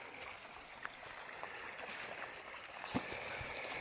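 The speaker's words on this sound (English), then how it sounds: "this is the Little Missouri River, the upper end of it. It's still pretty small." Small upper stretch of the Little Missouri River flowing steadily outdoors, a constant soft rushing with faint trickles and a brief knock near the end, no voices.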